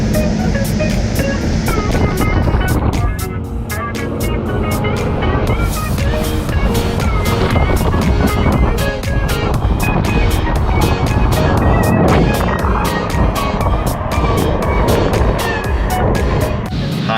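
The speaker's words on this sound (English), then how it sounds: "High-powered water." A touchless car wash blasting high-powered water over a wrapped car, a dense, continuous roaring spray heard from inside the vehicle that stays loud and steady throughout.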